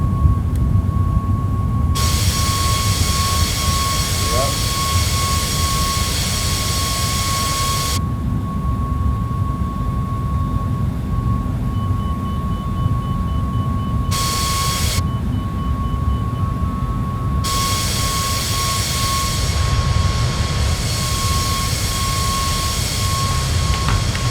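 Boeing 737 MAX jet taking off in Microsoft Flight Simulator, a steady, loud broadband engine roar with a constant tonal whine running throughout, shifting in brightness as the thrust changes.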